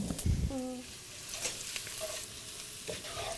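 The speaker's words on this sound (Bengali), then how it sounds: "আমরা এখন আমাদের পেঁয়াজটা দিয়ে দেবো আমার একটা স্প্যাচুলা দিয়ে আমরা একটু নাড়বো" Onions fry over low heat while a spatula stirs them for beef nihari, with a steady soft sizzle broken by a few scraping strokes and light knocks close by.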